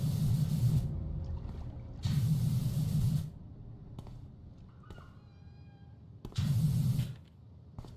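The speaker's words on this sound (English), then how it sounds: "there's a cat." A cat meows in PowerWash Simulator on a dockside ship level: a few faint, thin calls rising through the middle of the clip, set between bursts of loud hissing pressure-washer spray.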